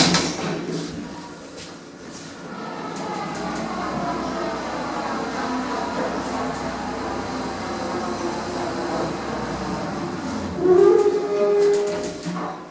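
An Otis Gen 2 elevator running in a shopping centre in Rennes, France, giving off a steady low mechanical hum and rumble that swells slightly near the end, with a brief squeal as it slows, no talk.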